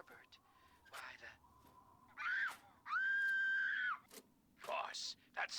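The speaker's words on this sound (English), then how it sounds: "that sounds like a kid screaming, and it's coming from those ruins" A child screams from ruins in the video game Fallout, in several loud, drawn-out wailing bursts broken by short pauses and fainter cries.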